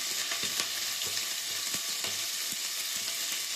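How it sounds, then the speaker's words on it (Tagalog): Chopped onions and garlic sauté in a hot pan, a steady frying sizzle with brief clicks and scrapes of stirring throughout, close and alone without talk. "Lagay na po yung ating sibuyas. Baka po masunog yung ating bawang."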